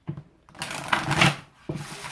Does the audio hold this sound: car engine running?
no